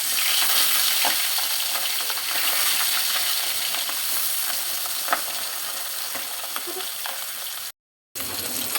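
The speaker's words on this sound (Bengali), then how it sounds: "এখন মাছগুলো দিয়ে দিব ভাজার জন্য।" Gulsha fish frying in hot mustard oil gives a loud, steady sizzle with faint clinks scattered through it; the sound cuts out briefly near the end, then resumes.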